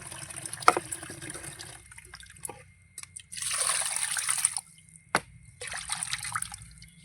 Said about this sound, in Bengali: এটাকে বারবার ধুতে হবে যতক্ষণ এই কালো জলটা না পরিষ্কার হচ্ছে সাদা হচ্ছে ততক্ষণটা ধুতে থাকবো